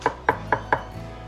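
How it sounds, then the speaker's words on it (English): A knife roughly chopping three boiled eggs on a board, four crisp chops in a steady rhythm, close and clear with no talking. "Just gonna chop them up roughly."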